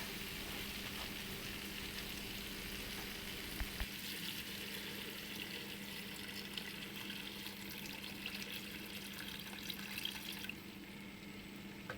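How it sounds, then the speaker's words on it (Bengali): Water added to a cooking pan for a rui fish-head muri ghonto brings a steady hiss and bubbling wash of sound that holds evenly, then softens slightly near the end. "এবার আমি জল দিয়ে দেবো"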